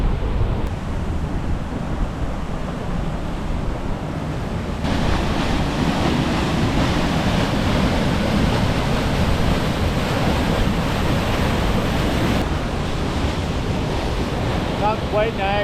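A small waterfall in Muskoka, Ontario, rushes steadily and loudly nearby, a dense continuous roar of falling water with wind buffeting the microphone throughout.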